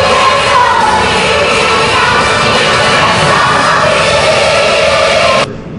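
Sustained applause and crowd noise fill a large arena at a Rotary district convention, dense and steady throughout before cutting off abruptly near the end.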